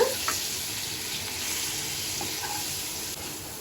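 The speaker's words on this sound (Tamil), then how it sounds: "இப்போ கீரி வச்ச முட்டையை வந்து போட்டுக்கலாம் சிம்மில் வச்சு வதக்கிக்கோங்க" Scored boiled eggs sauté in a masala gravy over a low flame, giving a soft, continuous close sizzle with a few light clinks from the pan.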